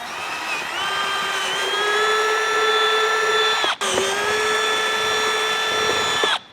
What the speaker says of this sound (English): What we're going to do is we're going to want to drill out these 2 holes right here